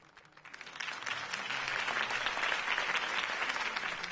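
A crowd applauding in the Batman Telltale video game, the clapping swelling quickly from a few hands into steady, sustained applause.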